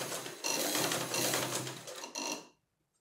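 A sewing machine stitches over gathered tulle for a wedding gown in a continuous rapid mechanical whir, with a short pause and restart before stopping abruptly, close and unaccompanied by speech.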